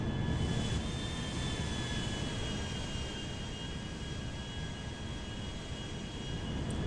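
An Airbus A320 airliner descends in GTA 5 with a steady, even jet-engine drone and a faint high whine. The sound carries alone at a moderate, unchanging level.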